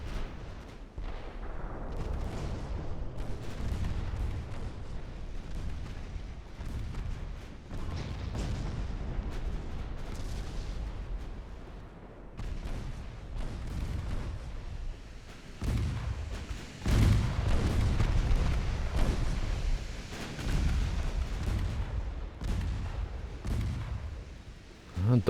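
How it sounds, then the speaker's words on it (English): Heavy naval gunfire from pre-dreadnought battleships in the strategy game Ultimate Admiral Dreadnoughts, with repeated distant booms and rumbling blasts over a steady low background drone. "Still firing back. Deutschland returns fire."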